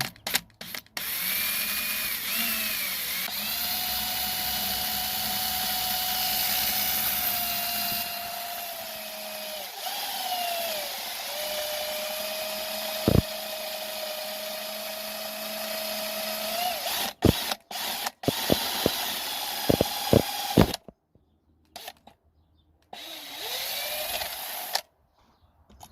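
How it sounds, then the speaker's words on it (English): An electric drill bores a small hole into the body of a Toyota Prius, a steady whining spin running about twenty seconds before several short bursts and stops near the end. "I'm gonna drill a small hole right here"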